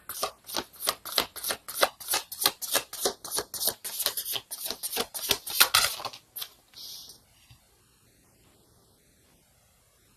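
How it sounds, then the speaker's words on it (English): Tarot cards are shuffled in a quick, even run of about twenty crisp riffling flicks for six seconds, then a card is slid out and the sound stops into near silence, close and fairly soft with no talk. "let's get one more card for the Wheel of Fortune."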